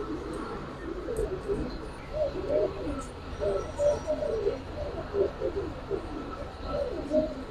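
A pair of Giribaz pigeons, one green-necked, give repeated low rolling coos close by, a steady rhythmic throaty murmur over a faint hum, with no talk.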